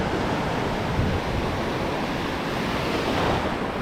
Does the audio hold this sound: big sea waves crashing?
yes